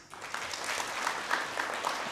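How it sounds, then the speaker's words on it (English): Audience applause for trustees at an annual general meeting in a Nairobi hotel, a steady wash of many hands clapping together that sustains evenly for the whole stretch with scattered sharper claps standing out. "Another clap for our trustees"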